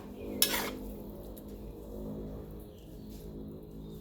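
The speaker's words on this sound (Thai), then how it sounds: "ปิดแก๊สเลย ตักใส่จานเขาเลย" Stir-fried cabbage with minced pork is scooped from a pan onto a plate: one sharp metallic scrape of the utensil, then faint soft clinks and shuffling under a quiet background hum.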